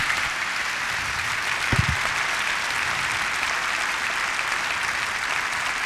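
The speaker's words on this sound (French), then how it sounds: "je vous propose qu'on applaudisse très chaleureusement notre invité de ce soir" A conference audience in an auditorium applauds a guest, steady dense clapping throughout with a brief low thump partway through.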